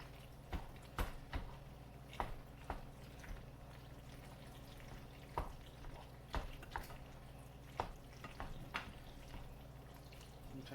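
Thick macaroni and cheese with elbow pasta being stirred in a pot, giving soft wet squelches and clicks at irregular intervals over a low steady hum, fairly quiet and with no talk.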